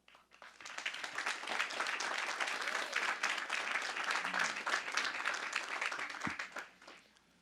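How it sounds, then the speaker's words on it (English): A large crowd at a high school graduation ceremony breaks into sustained applause, swelling quickly after the first second, holding steady, then tapering off near the end. "They all deserve a round of applause."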